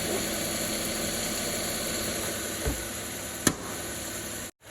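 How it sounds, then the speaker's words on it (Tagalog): A Volvo XC90 engine idles with a power steering whining fault, a steady mid-pitched hum and vibration up close, broken by a couple of small knocks before the sound cuts out briefly. "umaandar na yung makina"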